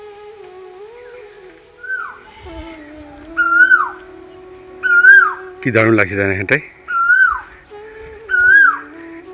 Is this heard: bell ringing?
no